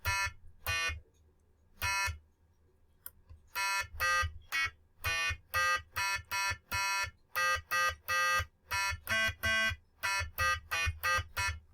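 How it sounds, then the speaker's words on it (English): Electronic 8-key piano built on a microcontroller, beeping a tune as a string of sharp, bright square-wave tones in steady, closely spaced notes with brief gaps, loud and alone. "I've got an 8-key piano."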